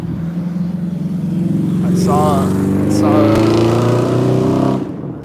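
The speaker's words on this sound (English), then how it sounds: "There's a white truck right now." A loud white truck passing on a street, its engine rumbling and swelling steadily for several seconds close by, with a brief word of speech over it.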